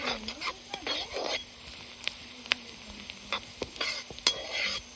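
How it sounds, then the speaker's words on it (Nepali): Onions fry in a pan at a village courtyard picnic in Nepal, a soft sizzle broken by repeated scraping and stirring clinks of a utensil against the pan, close and fairly quiet. "प्याज भुटिँदैछ।"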